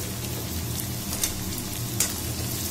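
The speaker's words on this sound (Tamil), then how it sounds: "இப்போ நம்ம அந்த நைஸாக கட் பண்ணி வச்சுருந்த வெங்காயத்தோட சேர்த்துக்கலாம்." Chopped onions added to hot oil in a pan for a Chettinad yam mash, sizzling steadily and close with a few sharper crackles, no talking.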